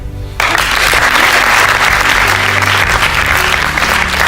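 Audience applause at a student eloquence competition breaks out after a short pause and continues as dense, steady clapping from a crowd, loud and close.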